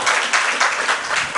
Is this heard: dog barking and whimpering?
no